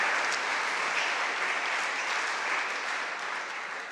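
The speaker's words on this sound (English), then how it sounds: "please, another round of applause, a warm welcome for Naomi Klein for being here with us" Warm audience applause at a book festival interview welcomes the guest, a dense, even patter of many hands clapping that tapers slightly toward the end.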